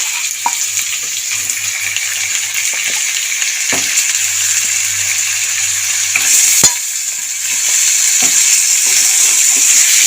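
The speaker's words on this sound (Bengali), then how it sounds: "এবার চিকেনটা দিয়ে দেবো।" Chicken pieces go into a pan of fried garlic and onion for soup, setting off a loud, continuous sizzle with scattered sharp scraping and stirring knocks, and the frying hiss swells again near the end.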